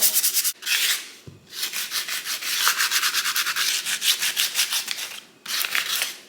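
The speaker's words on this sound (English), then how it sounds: "I'm just gonna scuff it up to kind of prep the wood so it'll absorb the oil" A thrifted wooden bowl is scuffed by hand to prep the wood for oil, giving steady rhythmic rubbing and sanding strokes, close and fairly loud, with a few brief pauses and no talk.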